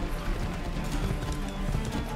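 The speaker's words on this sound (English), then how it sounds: "The horse will not sprint." Horse hooves clip-clop at a steady gallop in Assassin's Creed 3, loud and close over a busy game soundscape, with a brief whinny-like sound and no talking.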